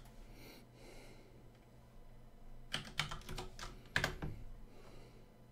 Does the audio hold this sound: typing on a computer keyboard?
yes